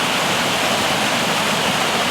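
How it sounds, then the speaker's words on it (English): Waterfalls in Lesotho roar as a constant, broad rushing wash of falling water, close and loud with no pauses or voices. "I came across the most stunning section of many waterfalls."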